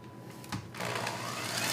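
Electric mixer beating butterbeer mixture in a bowl, a soft whirring buzz that picks up and grows steadier after a brief start, close and alone.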